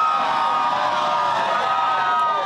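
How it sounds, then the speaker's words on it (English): A dense crowd gathers outside the U.S. Supreme Court after Roe v. Wade is overturned, producing a steady roar of mixed voices and cheering that holds at an even level throughout. "Law enforcement at the ready outside the U.S. Supreme Court, where crowds have been gathering after word the court has overturned Roe v."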